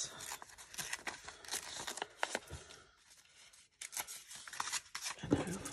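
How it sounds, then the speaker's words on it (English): Paper torn by hand for a junk journal: a crisp, close run of ripping and crinkling, pausing briefly midway before another rustling tear. "let me just tear it"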